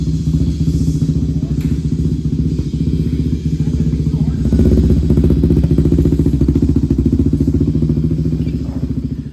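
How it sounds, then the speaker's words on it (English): A loud Yamaha Raptor 700 ATV engine runs close by with a deep, rapid, throbbing exhaust note, rising briefly in intensity midway before settling back into a steady idle-like rumble. "it still has a great exhaust note to it"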